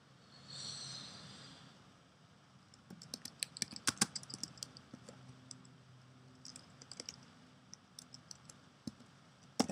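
Keys on a computer keyboard click in short, uneven runs as text is typed. The sound is quiet and close, with a faint hiss before the typing starts.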